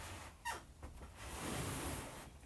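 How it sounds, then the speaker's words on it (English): A squeaky floorboard creaks once with a short, sharp squeal, then the floor shifts again as a rug is moved during a stretching session, followed by a broad rustling, whooshing noise indoors. "we still got the squeaky board"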